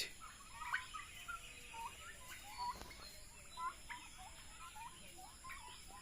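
Turkeys kept for meat on a small farm call faintly in the distance, a scattered series of short chirping gobbles and clucks over a quiet outdoor background.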